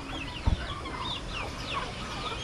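Chickens cluck softly in a farmyard with ducks and turkeys, scattered bird calls over a steady outdoor background, with a brief thump near the start.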